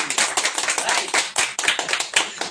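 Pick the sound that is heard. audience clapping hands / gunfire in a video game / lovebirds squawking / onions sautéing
audience clapping hands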